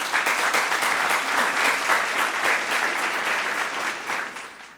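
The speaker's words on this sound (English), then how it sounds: "Round of applause, please." An audience applauds at a school quiz contest between junior high schools. The clapping is dense and sustained and fills the room, tapering slightly at the end.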